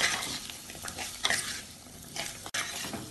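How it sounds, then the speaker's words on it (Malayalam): Cubed potatoes and spice powders being stirred in a hot pan for a Kerala sadya dish, a steady close sizzle broken by scraping strokes of a spoon, with a brief dropout near the end. "ഇതെല്ലാം കൂടി ഇളക്കി വഴച്ചാം"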